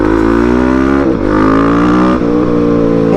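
A 2024 KTM 690 SMC R supermoto engine with a quickshifter runs loud and close, holding a steady throaty drone that briefly dips twice as it shifts, then rises again.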